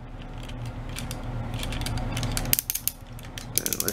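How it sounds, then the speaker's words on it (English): Ratchet joints on a Soul of Chogokin Megazord toy clicking in a quick burst of sharp plastic clicks over a steady background hum, with a few more clicks after. "The ratchet joints, man, I love it."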